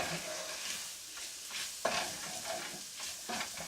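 Onions for French onion soup frying in oil in a pan, a soft close sizzle with intermittent scraping stirs and one louder knock partway through, no voices.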